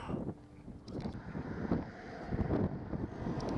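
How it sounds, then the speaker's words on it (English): Cold outdoor wind at a scenic viewpoint in the Great Glen, buffeting the microphone in uneven gusts and rumbles, close and fairly loud, with no talk. "I just stepped outside to take a video of the view here, and oh, it's a biting cold wind"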